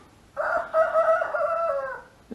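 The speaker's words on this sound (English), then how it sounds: "You go, Mr. Antonio the rooster." A rooster crows once in a long, loud, drawn-out call close by, heard during a Kawasaki 1100 STX DI jet ski repair, with no talk over it.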